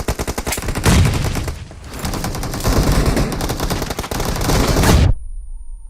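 Rapid video game gunfire rattles in dense automatic bursts for about five seconds, loud and close with brief gaps between volleys, then cuts off abruptly into near silence.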